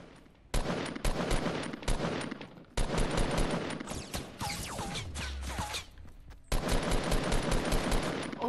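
Loud, dense automatic gunfire in a video game, fired at the player in long sustained volleys separated by brief silences, with a few whistling ricochet-like sweeps and a low thud in the middle.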